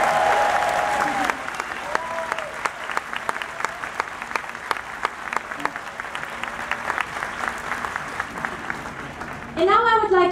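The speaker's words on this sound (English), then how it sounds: "Maybe you guys can clap a little louder too." A studio audience claps steadily and loudly at an event with judges, a dense wash of applause lasting several seconds, rising to a fuller burst at the very end.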